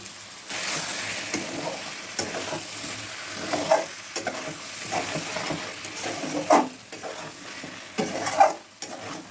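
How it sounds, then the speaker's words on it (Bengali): Mutton pieces stir-fried in a pan as boiled mutton stock is added bit by bit, a continuous wet sizzle with irregular scraping stir strokes and a few sharper clatters, close and steady, no talking. "এবারে আমি সিদ্ধ করে রাখা মাটনের স্টকটাও দিয়ে দিচ্ছি অল্প অল্প দিয়ে দিয়ে আমি এটাকে কষাবো"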